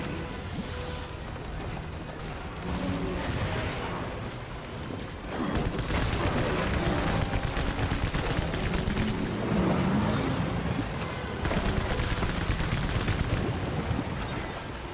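Gunfire in Death Stranding crackles in dense, rapid volleys with crashing impacts, growing louder and busier midway through and continuing in sustained bursts.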